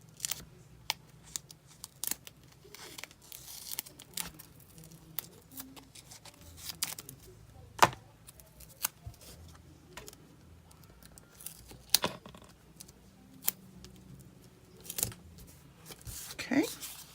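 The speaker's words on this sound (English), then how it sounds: "And cut this one up in the middle." Scissors snip through card paper while an Easter card is made, producing sparse, sharp, close clicks and crisp cuts at irregular intervals over a quiet low hum.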